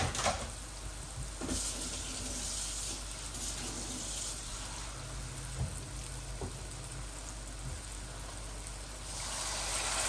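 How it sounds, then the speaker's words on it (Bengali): Chili and spices fry in a pan over a gas flame, giving a steady, soft sizzling hiss with a few faint clicks and no voices. "এই যে আমার মরিচ মশলাগুলো একটু হয়ে যাক, ভাজা হয়ে যাক"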